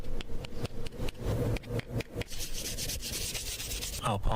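A pet bird's beak is sanded with coarse then finer grit, giving close, rapid rasping strokes in uneven bursts that turn into a finer, brighter scratching toward the end.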